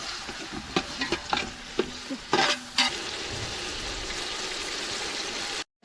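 Tomatoes fry until soft in a pan for village-style biryani cooked over a wood-fired stove: a steady close sizzle runs throughout, with several sharp utensil clicks and scrapes in the first half before it cuts off abruptly.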